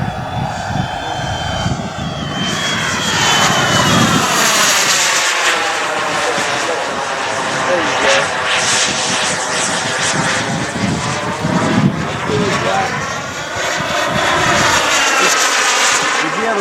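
A 2M Rebel propeller airplane with smoke flies overhead, its engine drone loud and continuous, rising and falling in pitch as it passes and circles, with people talking faintly beneath.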